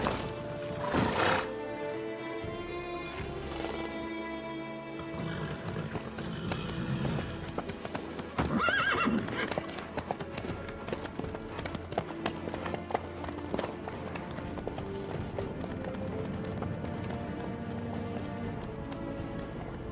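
Horse hooves clip-clopping at a steady galloping rhythm in the video game The Witcher 3: Wild Hunt, loud and continuous over game music and ambience, with brief voices of characters talking.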